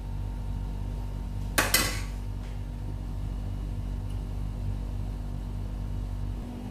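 A lid set onto a pot of lamb meat in a home kitchen gives a single sharp metallic clank with a short rattle, heard alone over a steady low hum.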